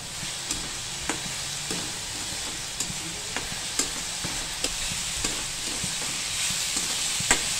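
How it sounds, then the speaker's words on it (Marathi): Chopped onion with red chili powder sizzling steadily in a hot pan, a spoon scraping and stirring through it in light repeated taps, close and continuous with no talking. "हा आपला कांदा परततोय."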